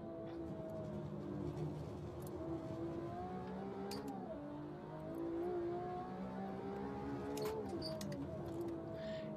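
Racing-game BMW M1 Procar, a 6-cylinder turbo with 850 hp, held at full throttle on a Nordschleife hot lap; a steady loud engine drone with pitch sweeps as it shifts and revs continuously throughout.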